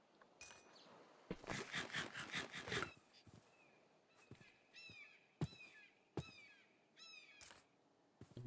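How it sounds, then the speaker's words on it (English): Crow-like bird caws and chirps in the Minecraft video game, a burst of rapid clicking taps followed by several separate short calls and sharp clicks spaced over several seconds. "Bird noises."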